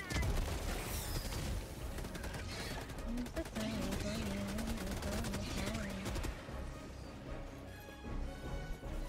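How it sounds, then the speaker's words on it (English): Machine gun fire in Helldivers 2 crackles in dense, rapid bursts among explosions and crashes, loud and chaotic throughout the battle, with muffled voices and a droning tone beneath. "Machine gun incoming."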